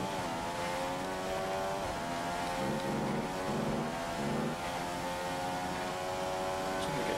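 Simulated Formula 1 car from the F1 2015 game at the Chinese Grand Prix, engine droning steadily with harmonic tones rising and falling through gear changes as the car warms its tyres, continuous and loud with no talk.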